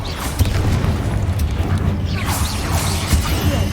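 A Confringo blast spell in the Hogwarts Legacy video game booms out as a dense, continuous rumble with crashing bursts, loud and close, with a spell name called out over the blasts.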